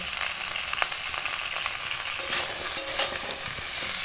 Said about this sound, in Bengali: লাউ শাক আর শিশলা পালং শাক একটু কষিয়ে নেব।